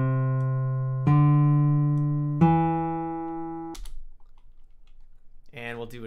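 Recorded classical guitar played back after crossfade editing, three ringing plucked bass notes decaying one after another, then a brief noisy stretch and a few faint clicks before another short note, close and fairly quiet.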